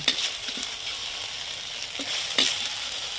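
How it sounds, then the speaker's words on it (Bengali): Soya chunks fry in hot oil until reddened, a steady close sizzle and crackle with a few brief louder spatters or stirring knocks. "ও গায়ে ডিম আছে তো তার জন্য ভালো মতন ভেজে নিতে হবে। ততক্ষণ মতো ভাজতে হবে যতক্ষণ না লাল হচ্ছে।"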